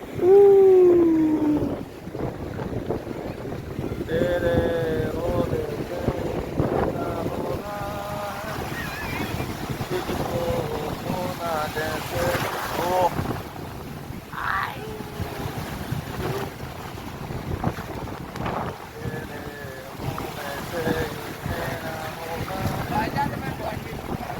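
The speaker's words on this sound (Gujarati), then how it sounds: "આવ્યું મોજું આવ્યું." Sea waves wash in at Mandvi beach under strong wind noise, a steady surf roar throughout, with people talking and shouting over it and a brief snatch of song.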